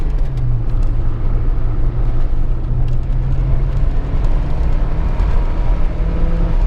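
A 1986 Saab 900 Turbo coupe with a five-speed gearbox driven on the road, heard from inside as a loud, steady low engine drone and road rumble with no speech.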